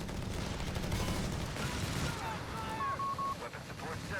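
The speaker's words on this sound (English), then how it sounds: "Heavy machine gun pinning that squad." Heavy machine gun fire in Company of Heroes 3 rattles in fairly faint, sustained bursts beneath a commentator's voice and the game's background noise.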